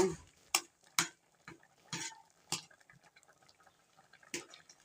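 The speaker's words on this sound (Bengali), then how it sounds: "এবার ভালো করে ঘেটে দেবো" Dal with tomato, turmeric, salt and sugar being stirred in a pot, with soft irregular taps and scrapes of a spoon over a faint wet bubbling, quiet and close, no talk.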